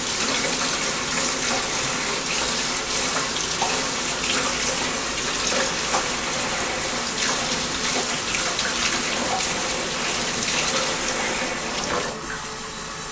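Water runs steadily into a sink while surgical instruments are cleaned, a continuous close gushing flow that holds constant for the whole stretch with no voices.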